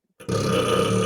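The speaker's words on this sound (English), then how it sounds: "Go on, pal. Burp again." A single loud, drawn-out burp erupts after a brief catch, rising into a sustained throaty belch that carries on to the end, close and alone without any talk.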